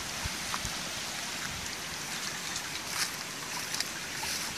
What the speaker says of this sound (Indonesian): Ini ada sungai kecil untuk pengairan.